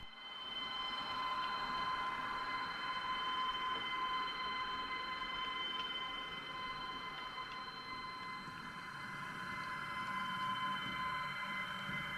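A small model locomotive, able to switch between electric and diesel modes, runs with a steady mechanical whir and faint high-pitched hum, constant and fairly quiet throughout, with no voices.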